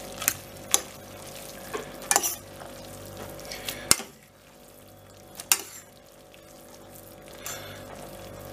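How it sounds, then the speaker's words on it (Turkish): Tomato spaghetti being stirred with butter in a pot: soft repeated scraping and clinking of the utensil against the pan with a few sharper knocks, close and moderately loud, no talking. "Şimdi bunu atıyoruz. Bir güzel karıştırıyoruz arkadaşlar."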